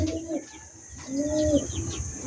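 Newly hatched chicks peep in repeated high, short chirps close by, several overlapping calls with a low cooing bird sound underneath.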